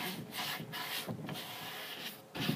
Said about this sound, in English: The whole coffee table was black. I'll have to sand the whole thing.